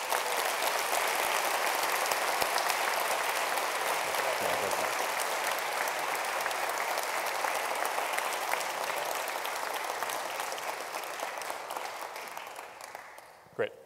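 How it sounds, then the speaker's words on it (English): A large audience at an awards event applauds the winners steadily for several seconds, the clapping thinning and fading out near the end. "one last round of applause for the winners"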